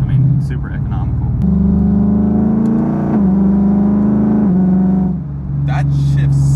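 A modified Lexus IS F with an eight-speed automatic cruises at low revs, its steady engine drone stepping through quick gear shifts, with people talking inside the cabin over it.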